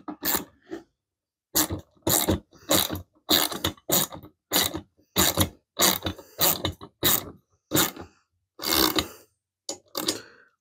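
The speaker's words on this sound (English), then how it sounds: "I'm going to get the screwdriver in there, and that's going to get seated into the head of the bolt. Then I can take this and just tighten it down." Ratcheting screwdriver driving down a bolt while a garden cart is assembled, a run of about a dozen sharp mechanical clicking bursts in quick uneven succession, close and fairly loud, with no talking.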